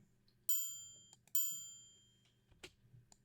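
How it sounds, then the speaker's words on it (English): A triangle sample in a dark plugg beat, struck twice in quick succession with bright ringing tones that decay slowly, alongside faint percussive clicks. "Then I added this triangle."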